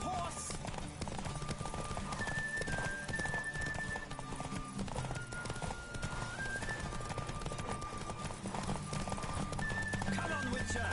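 Hooves clip-clop steadily at a running pace in the video game The Witcher 3, with a horse whinnying and voices talking over the galloping.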